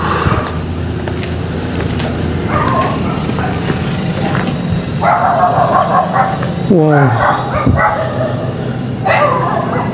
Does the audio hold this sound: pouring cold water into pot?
no